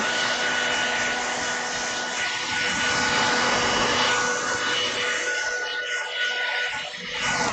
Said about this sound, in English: It's a hair dryer you could get anywhere.